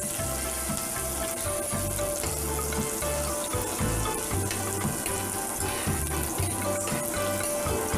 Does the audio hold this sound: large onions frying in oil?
yes